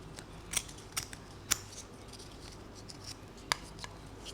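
Several crisp scissor snips cutting cloth for a 1/12 scale action figure, spaced irregularly with a pause before a final snip, close by in a quiet room.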